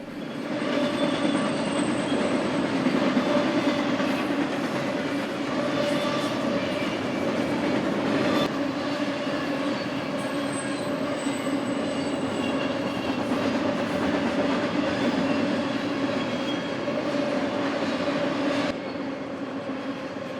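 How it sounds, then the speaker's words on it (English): A long westbound freight stack train rumbles steadily past in the isolated desert between Cadiz and Barstow, California, with continuous rolling wheel noise and occasional metallic squeals, loud and close throughout. "A westbound stack train started things off along this isolated desert location."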